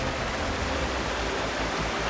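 Steady, full-bodied roar of a waterfall in the Carpathian mountains, unbroken broadband rushing water with no voices.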